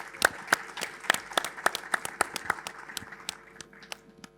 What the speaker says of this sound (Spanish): le damos un aplauso cariñoso.